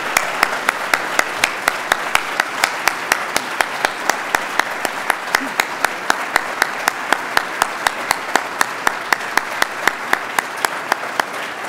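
Applause with cheering from an audience at a university engineering school naming ceremony, a dense, steady crackle of many hands clapping that holds loud and unbroken throughout.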